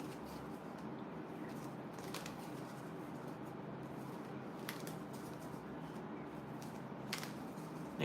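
Soft, continuous riffling of tarot cards being shuffled, with a few sharper snaps standing out over a low, steady background.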